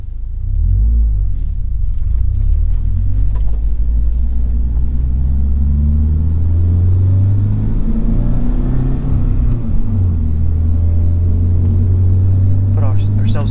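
A loud, deep engine rumble holds steady as a 2023 Toyota GR86 manual rear-wheel-drive sports car accelerates on a winding mountain road, the pitch rising and falling through gear changes.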